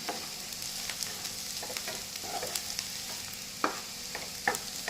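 Boiled sweetcorn kernels roasting in a pan give a soft, continuous sizzle, broken by scattered sharp clicks and scrapes of stirring, close and alone.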